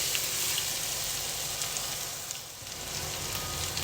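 Three medium onions and eight green chilies sauté in a pan for a chicken stew, with a steady, hissing sizzle throughout that dips briefly and then returns, close and continuous with no talking.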